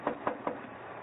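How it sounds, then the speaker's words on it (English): Three evenly spaced knocks land on a door in an old-time radio drama, quick and moderately loud, with no voices over them. "One moment while I knock."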